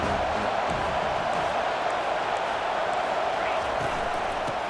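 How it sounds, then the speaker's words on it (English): A dense stadium crowd roars steadily at a Utah State versus USC college football game on third down, a loud, unbroken wall of noise with commentary voices beneath. "Decibels rising as the crowd gets behind this defense on 3rd down."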